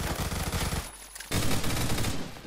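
Automatic fire from a Kriss Vector in the online shooter Phantom Forces, two loud, rapid bursts split by a short pause, close and with no voices over it.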